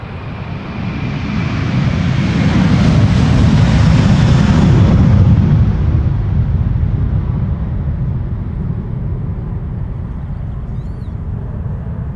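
An Airbus A330 airliner at Schiphol airport in crosswind roaring past, a broad rumbling jet roar that swells to a loud peak, then fades slowly into a lingering distant rumble.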